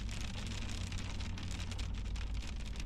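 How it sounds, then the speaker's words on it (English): Steady rain pours down during a storm in Yosemite, a dense, even wash of hiss with a low rumble underneath, continuous and close with no voices. "The rain."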